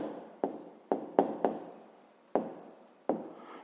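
A pen writing by hand on paper, six short scratchy strokes in an uneven rhythm, close and quiet against silence.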